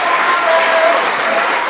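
Steady, broad applause from a snooker crowd at a Ronnie O'Sullivan versus Judd Trump match, dense clapping held at an even level throughout.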